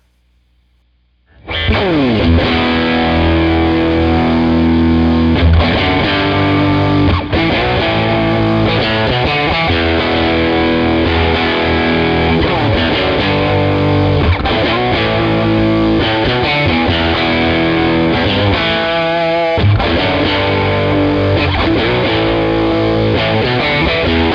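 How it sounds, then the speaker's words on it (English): A loud, heavily distorted electric guitar through a Tonkraf Fonix amp cranked for power-amp distortion plays chords and riffs continuously after a brief silent start, saturated and compressed. "let me just show you really quick the volume power distortion. So I'm going to crank it"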